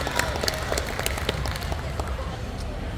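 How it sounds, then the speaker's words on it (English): Crowd applause at a tattoo convention pinup pageant, a busy spatter of hand claps with some cheering mixed in, lively and fairly close, carrying on throughout. "All right, round of applause for Ms. Ivy, please."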